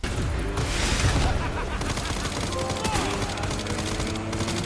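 Rapid bursts of gunfire crackle through a motorcycle boss fight in the video game Resident Evil Requiem, dense and loud with engine roar and game effects underneath.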